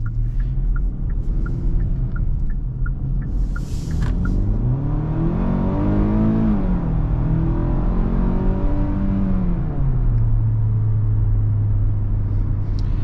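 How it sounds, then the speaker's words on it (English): A 2023 Hyundai Tucson SUV in sport mode accelerates from the driver's seat. The engine note climbs steadily through the gears as a smooth rising whir and rumble, then settles into a steady cabin drone, with no voices. "I did put it in sport mode right now, and I'm gonna go ahead and do an acceleration right here."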